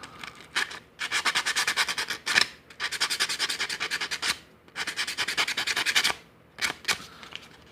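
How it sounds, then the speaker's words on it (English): Sandpaper rubs the sides of a Medeco key in quick, rhythmic back-and-forth bursts, several strokes per pass with short pauses between, close and crisp. "Get a little bit of sandpaper. Get the sides."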